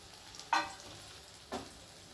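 Chopped onion, garlic and green chilies fry in a pan: a soft sizzle broken by two short, sharp bursts about a second apart as the pan is stirred, with no voices.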